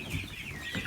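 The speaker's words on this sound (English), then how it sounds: "I have a nasty rooster in there." Icelandic chickens cluck softly inside a dirty coop, a couple of brief, close clucks over a quiet background.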